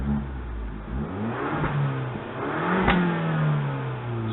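An Abarth 500 engine is revved while parked, with a steady mid-pitched hum that rises and falls through a couple of revs, close and fairly loud, with no talk.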